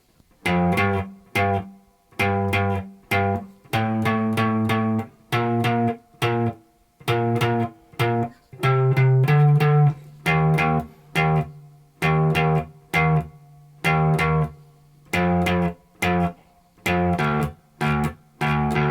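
Electric guitar plays a riff, a run of short plucked notes and chords broken by brief gaps of silence, steady rhythm, close and clear, played alone without any voice.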